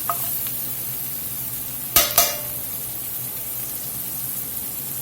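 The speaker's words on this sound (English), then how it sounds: "Just about a tablespoon of butter in here" A tablespoon of butter melting and bubbling in a pan with softened onions for a Mississippi pot roast: a soft continuous sizzle, broken near the middle by two quick clacks of a utensil against the pan.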